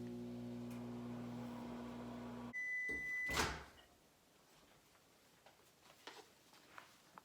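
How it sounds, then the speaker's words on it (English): A microwave oven's steady electric hum runs for a few seconds, then cuts off with a short beep and a door clunk, leaving a quiet room. "I'm gonna start with 1 minute in the microwave."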